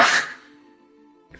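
A single sharp sneeze bursts out close to the mic indoors, loud at first and quickly trailing off into quiet with a faint ringing tail before a brief stir of sound.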